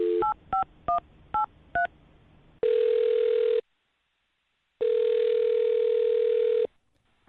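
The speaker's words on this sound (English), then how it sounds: "I'm going to dial her phone number right now" A telephone is dialed with five quick, clear touch-tone beeps in a row. Then a steady dial or ringback tone sounds twice in long, loud stretches separated by a gap of silence, with no voices.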